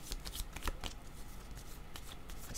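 Oracle cards being shuffled and drawn, giving a quiet, close riffling and soft flicking with brief bursts in quick succession and no talk.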